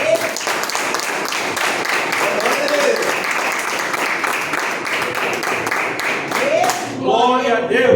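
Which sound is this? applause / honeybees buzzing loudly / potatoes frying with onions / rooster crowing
applause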